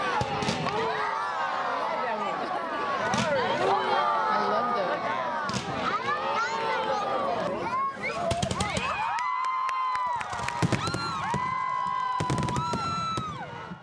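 Fireworks bursting at a Fourth of July community event, with repeated sharp bangs and crackles scattered across the clip over a steady crowd murmur and nearby voices.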